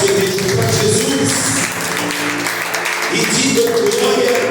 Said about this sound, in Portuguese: Palmas para o nosso Deus, igreja. Bem forte, igreja, para Jesus.